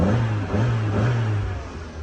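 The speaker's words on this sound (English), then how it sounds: "why don't I turn the key and give her a little rev" A Mazda MX5 Mk1 Berkeley Special Edition idles with a raspy engine note and gets a light rev, a steady close mechanical rumble swelling slightly then easing off.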